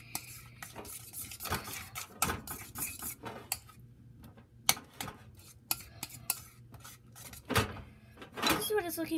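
Slime made with Elmer's glue is stirred in a container, with irregular scraping and clinking of the utensil against the sides, short bursts separated by pauses, and a person talks between strokes.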